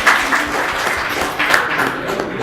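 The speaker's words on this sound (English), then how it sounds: "One applause." An audience at a training summit session applauds steadily for a couple of seconds, a dense, even wash of clapping.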